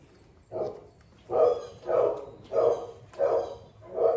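A dog barks five or six times in a steady rhythm, close and fairly loud, each bark a rough, full woof, with no talking over it.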